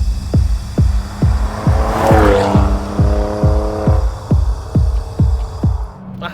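A 2009 Vauxhall Vectra VXR passes close by, its engine note swelling to a loud rasping peak in the middle and then fading away, with a rapid rhythmic thumping running underneath throughout.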